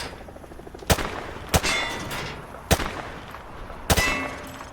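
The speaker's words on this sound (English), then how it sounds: "Grab that weapon off the table and fire at the targets behind you." Rifle shots at shooting-range targets in Modern Warfare 2 Remastered, four loud sharp cracks spaced about a second apart, each with a metallic ring and short decay, no voices over them.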